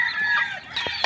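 White chicks and chickens at feeding time in a small backyard poultry pen, giving a brief burst of high chirps and clucks close by, with no talk.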